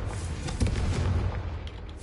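A Confringo fire spell fired in the Hogwarts Legacy video game gives a loud, dense booming blast that swells and rumbles on for about two seconds before easing off.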